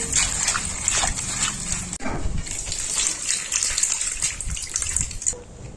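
Small puti fish being washed by hand in water, with steady splashing and gushing, close and continuous, and a dog barking intermittently over it.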